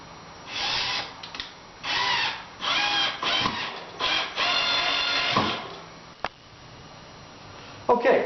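A power drill drives a screw into wood while a wooden squat footstool is assembled, whirring in several close bursts of about a second each, with short pauses and a sharp click between them.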